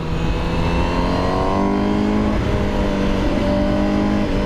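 A 2020 Honda CBR1000RR-R SP fitted with an Akrapovic exhaust revs loudly and close by, its pitch climbing in smooth sweeps with brief dips between rising pulls.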